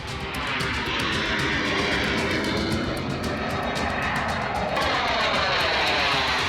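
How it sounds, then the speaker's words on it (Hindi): Fighter jets roar over the Purvanchal Expressway airstrip in Uttar Pradesh, a loud continuous broadband engine rumble that fills the clip from start to end with no voices. "लड़ाकू विमान, जिनकी गर्जना आजकल यूपी के पूर्वांचल एक्सप्रेसवे पर सुनाई दे रही है"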